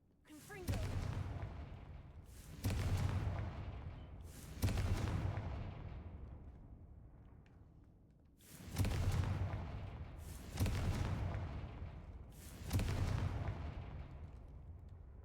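Confringo spell blasts in a Harry Potter video game: six sharp explosive booms, spaced roughly two seconds apart with a pause in the middle, each decaying into a rumbling tail.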